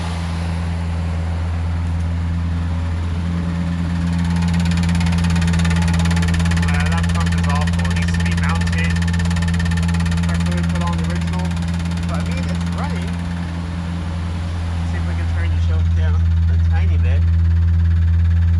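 A Morris 1300 classic car engine, a restored barn find, idles with a smooth, steady low rumble, close and loud, while someone talks over it.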